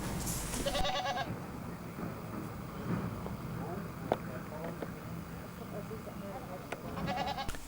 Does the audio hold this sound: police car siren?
no